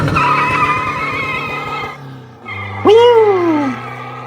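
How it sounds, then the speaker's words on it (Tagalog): A custom-tuned 2023 Toyota Hiace van with a 1KD diesel engine revs hard and spins its tires, a loud, rough engine roar giving way to a rising squeal that peaks and fades away. "Kumakamot guys, tignan niyo guys, kumakamot yan."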